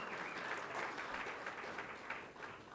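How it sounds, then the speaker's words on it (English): Audience applause at an annual general meeting, a steady wash of many hands clapping at moderate level throughout, with no speech over it. "I thought you'll give employees of Mictseta a round of applause"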